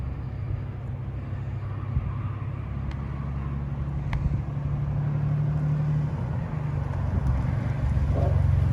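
A Nissan G35 with a turbo kit runs steadily, its engine humming low and constant at close range with occasional faint clicks and a slight rise near the end.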